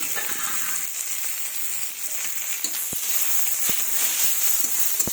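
Fenugreek greens hit a hot pan of fried spices, giving a close, steady sizzle with a few sharp crackles and clicks scattered through, no voices.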